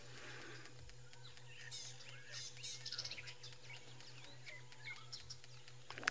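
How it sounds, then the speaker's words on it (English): Birds call on a live safari, chirps and a rattling call scattered across the scene, faint to moderate, over a low steady electrical hum. "We can hear a bird calling."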